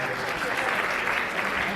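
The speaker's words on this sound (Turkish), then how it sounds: "Bir kere de alkışlarımızı alabilir miyiz arkadaşlar?" An audience at a Turkmenistan country showcase event in Bursa applauds, a dense, steady wash of clapping at moderate level that continues without pause through the short stretch.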